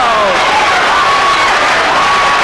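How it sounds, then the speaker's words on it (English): Boxing crowd at the 1983 Larry Holmes vs Tim Witherspoon fight at the Dunes, Nevada, roaring in a steady, dense wash throughout, with a commentator's voice talking over it. "Listen to this crowd."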